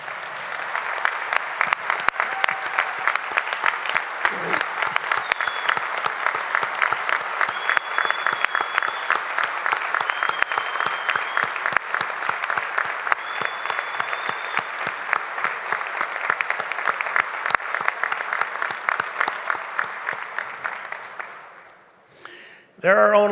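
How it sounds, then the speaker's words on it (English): Sustained audience applause fills a hall at an organization's National Adjutant's Report, steady dense clapping for about twenty seconds before tapering off near the end. "please give a round of applause for our own Mark Burgess"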